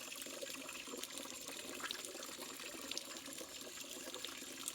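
Water splashes and trickles steadily as someone bathes in a cold stream out in the countryside, a continuous close wash of sound with no talking.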